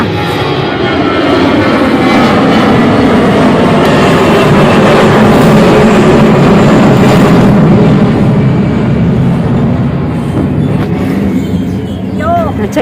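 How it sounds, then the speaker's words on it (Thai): An airplane passes overhead outdoors as a loud, broad engine roar that fills the whole clip and swells in the middle, with a few faint background sounds underneath. "อ้าวเครื่องบินมา"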